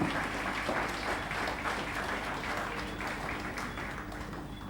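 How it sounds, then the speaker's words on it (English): Audience applause at a sports awards ceremony, a steady dense wash of many hands clapping that holds at an even level for the whole stretch, with no voices standing out above it. "Round of applause, ladies and gentlemen."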